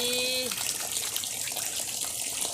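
Fish being washed in water to make fermented fish paste (pla ra) gives steady splashing and running water throughout, with a brief tonal sound at the start.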